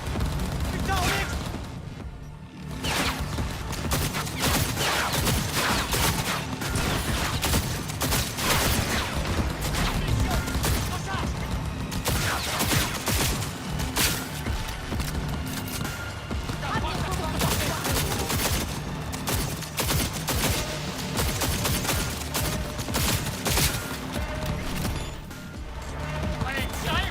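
Rapid, sustained gunfire fills a Cyberpunk 2077 firefight, with loud dense bursts and cracks continuing almost without pause alongside other combat noises, while someone shouts over it.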